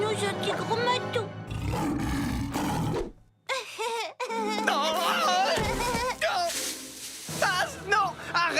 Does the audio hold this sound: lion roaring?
yes